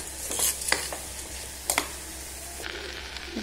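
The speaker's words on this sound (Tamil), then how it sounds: "அரிசி போட்டு கிளறி கிளறிக்கலாம்." Rice being stirred with ground spices in a pan for a simple white pulav, with a spoon scraping and clinking against the metal in a few distinct strokes over a soft background sizzle.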